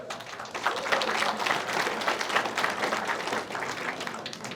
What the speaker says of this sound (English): a round of applause for all of you showing up